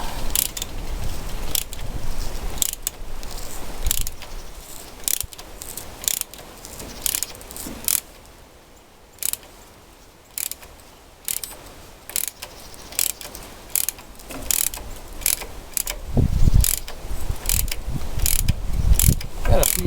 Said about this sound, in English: Got my extension in there, 1/2 inch drive ratchet.